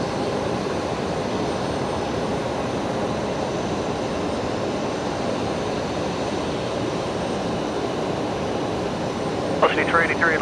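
A Kalitta Boeing 747 jet departing Brisbane Airport gives a steady, broad engine roar that holds evenly throughout at a distance, with a brief higher tonal sound near the end.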